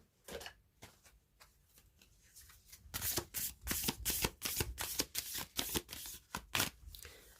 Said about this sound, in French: je vais tirer 2 cartes de l'oracle de la vision intérieure pour terminer ce tirage